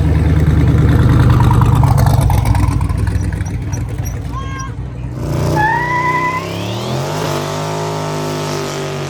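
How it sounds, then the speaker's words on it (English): At a drag-racing event burnout pit in Rock Falls, a car holds its engine at a loud, sustained high-rev roar, then the revs drop and climb again with a rising whine, up close and dominating. "Man, we are doing burnouts in Rock Falls and it's legal."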